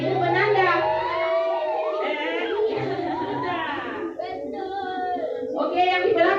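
Children at an elementary school Ramadan program imitate a siren with their voices, producing rising and falling wails together in a loud chorus, with brief pauses between sweeps.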